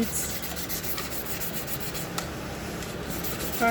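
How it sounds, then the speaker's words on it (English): A nail file rasps steadily across the plastic surface of a water bottle, a continuous close scratching and rubbing texture with slight back-and-forth variation and no talking. "I'm going to be using my nail file. So you file this properly."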